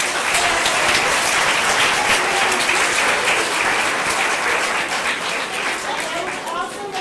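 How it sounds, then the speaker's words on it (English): A school audience at a kindergarten academic assembly and character awards ceremony claps steadily for the kindergartners, loud sustained applause filling the room and tapering slightly toward the end. "A great big round of applause for our Legion of"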